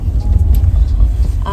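Car interior while driving, a loud steady low rumble of road and engine noise filling the brief moment.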